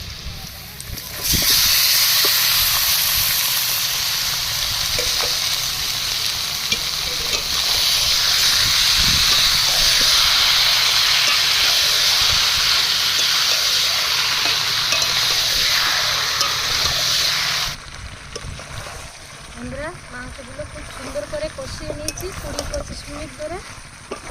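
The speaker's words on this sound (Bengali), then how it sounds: "পেঁয়াজগুলো লাল লাল করে ভেজে নিয়েছি এবার ম্যারিনেট করা মাংস দিয়ে দেবো" Marinated chicken hits a pan of onions already fried until reddish with dried chili, giving a loud, constant sizzle with stirring that lasts many seconds, then drops to a quieter crackle with a voice talking.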